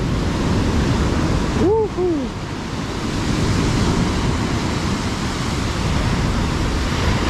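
Ocean surf and wind at Pantai Seruni beach in Donorojo, Pacitan, East Java, a steady broad roar of breaking waves with wind buffeting the microphone throughout, and a brief voice-like call near the two-second mark.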